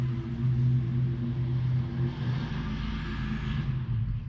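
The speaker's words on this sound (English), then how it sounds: "somebody's got their car out" A car engine rumbles steadily nearby, a low continuous drone with a slight rise and swell through the middle, heard alone in an outdoor yard setting.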